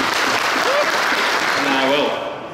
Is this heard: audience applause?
yes